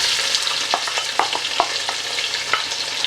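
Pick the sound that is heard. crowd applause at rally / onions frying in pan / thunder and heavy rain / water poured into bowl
onions frying in pan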